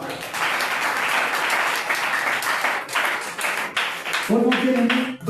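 A church congregation claps and applauds for the Lord, steady dense clapping throughout with a voice speaking over it toward the end.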